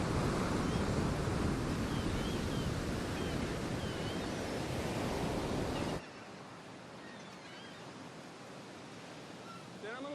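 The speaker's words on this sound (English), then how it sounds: "beholding with astonishment the high waves dashing the rocks in this immense ocean" High ocean waves dash against rocks in a steady, loud roar of surf and spray, dropping to a softer wash partway through, with no voices.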